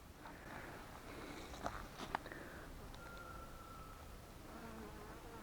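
Faint buzzing of wild bees around a hive in a log, a thin drone that comes and goes against a quiet outdoor background.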